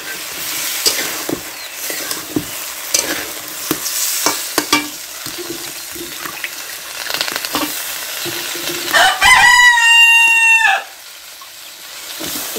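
Stirring and frying clatter at a kitchen stove gives way to a single loud rooster crow nearby, its rising, drawn-out call lasting about two seconds before the cooking sounds carry on.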